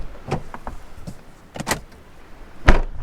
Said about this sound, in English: need to go lock the doors